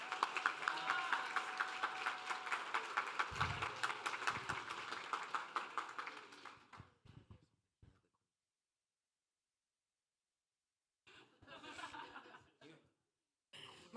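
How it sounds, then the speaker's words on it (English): Wedding guests applaud after a speech, a dense burst of clapping mixed with laughter that fades out after about six seconds, then silence and a few later snatches of chatter and laughs. "Round of applause for them."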